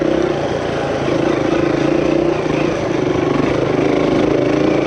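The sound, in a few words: dirt bike engine running while riding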